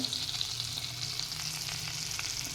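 Cumin and turmeric sizzling in a spoonful of oil and butter in a kadai, a steady close hiss of frying that stays even throughout, with no voices.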